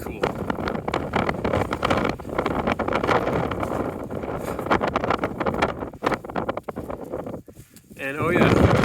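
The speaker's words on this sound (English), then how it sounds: "it is genuinely really windy. The wind is whipping." Strong wind whips over sand dunes in Colorado, a loud roaring rush buffeting the microphone in gusts that briefly dip and then surge back.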